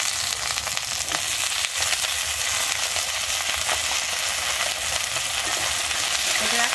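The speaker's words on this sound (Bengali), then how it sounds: "কেটে রাখা আলু বেগুনটা আমি কিন্তু দিয়ে ভালোভাবে মিশিয়ে নিচ্ছি" Cut potatoes and eggplant frying in oil in a pan after onions, being stirred, giving a steady loud sizzle with occasional soft scraping of a spatula, close up and with no talk.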